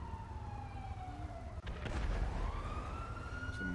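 A wailing ambulance siren in a video game sweeps down, cuts out, then rises again over a steady rumbling background, loud and close.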